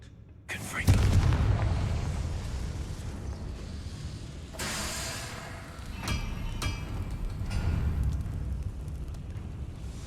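The Confringo blasting spell in Hogwarts Legacy bursts with a sharp, heavy explosion, then a second blast follows a few seconds later, each trailing into rolling rumble and crackling debris.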